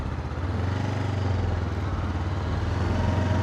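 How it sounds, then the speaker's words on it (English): A Honda NX500 motorcycle engine runs steadily and loud at close range as the bike pulls away, a continuous low-pitched drone with no talk. "Enough about the bike, we're going to go for another ride."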